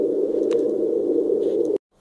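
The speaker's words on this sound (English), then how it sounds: "all you do is just record this white noise like this" A white noise generator plays a steady, loud, even hiss for close to two seconds and then cuts off abruptly into silence.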